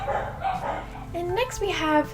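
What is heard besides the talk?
dogs barking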